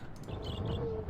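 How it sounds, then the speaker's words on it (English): Birds hoot in a wooded area of the video game Myst, a brief, soft owl-like call over a low ambient background. "Ooh, birds."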